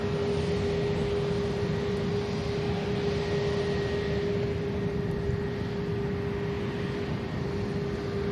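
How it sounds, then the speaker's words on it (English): A Swiss airliner at Manchester Airport, its engines giving a steady, loud, continuous roar with a sustained tonal whine riding over broadband rumble, heard from nearby without any speech. "The Swiss. Beautiful looking aircraft."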